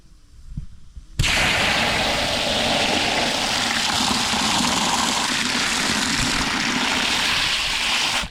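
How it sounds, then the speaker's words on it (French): Freshly harvested sweet potatoes in a garden are rinsed under a steady, close rush of running water that starts abruptly after a brief quiet moment and continues evenly. "On va quand même mettre un petit coup de rinçage."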